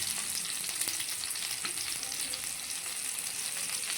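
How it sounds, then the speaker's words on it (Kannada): Madimal fish fries in a pan with a steady, close hiss and sizzle, a dense bright crackle that runs evenly throughout with no voices. "ಮದಿಮಲ್ ಮೀನು ಫ್ರೈ ಆಗ್ತಾ ಇದೆ ನೋಡಿ."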